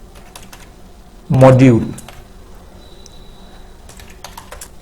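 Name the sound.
typing on a computer keyboard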